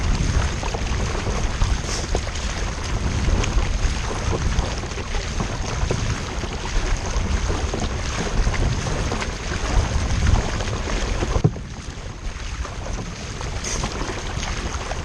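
Steady kayak paddling on open water, with continuous rushing water and wind buffeting close to the microphone and soft rhythmic paddle strokes, ending in a brief quieter lull.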